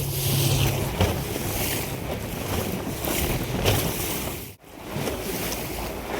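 Strong sea wind buffets the microphone aboard a fishing boat, a steady roaring gusty wash with waves and water churning beneath, loud throughout with one brief dropout.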